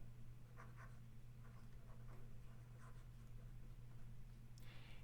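Pen or marker writing out an equation on a surface, faint scratchy strokes in short bursts over a steady low background hum, no talking.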